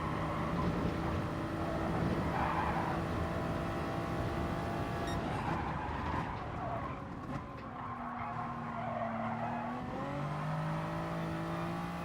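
A race car in GT Sport breaks into a big oversteer slide, tyres skidding and squealing over a steady engine drone, then the revs shift and climb as the car recovers, moderately loud throughout.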